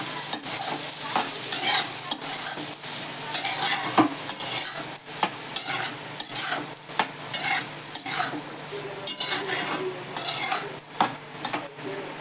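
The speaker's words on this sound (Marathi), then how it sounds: "गॅस मोठा करते जरा चांगला, मस्त परततात ते मासे." Fish frying in a pan on a gas stove sizzle steadily and close by, with frequent spoon or utensil scraping and stirring clatter over the hiss.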